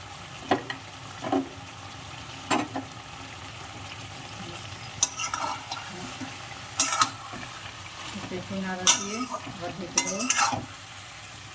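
Country chicken fries in a pan with green chillies, a low sizzle under repeated loud scraping and clanking strokes of a spoon stirring the pot at close range.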